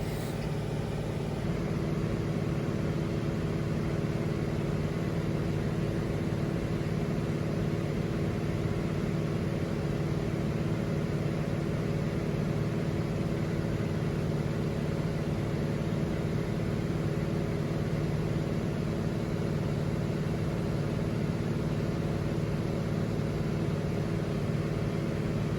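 A single-engine airplane drones in flight over the ocean, a constant, loud, unbroken engine hum and rumble with no change in pitch throughout, heard from inside the aircraft.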